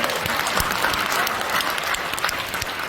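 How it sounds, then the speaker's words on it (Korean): Dense, continuous applause from an audience at a press conference with a pastor, a steady full wash of clapping at moderate distance with no talk over it. "박수 좀 쳐봐요"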